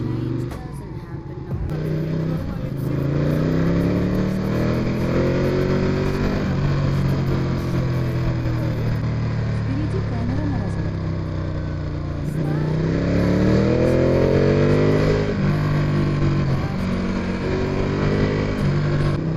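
A scooter engine drones steadily while riding, its pitch rising and falling as it speeds up and slows down, close and loud throughout with wind noise.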